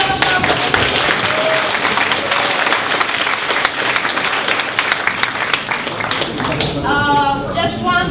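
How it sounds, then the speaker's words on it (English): Sustained applause from an audience at a team event, dense and steady clapping filling the whole stretch, with voices rising and talking over it near the end. "A big round of applause."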